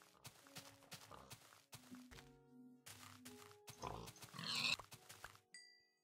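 A Minecraft pig grunts and oinks in short bursts amid game sounds, with a brighter squeal-like burst near the end; no talking.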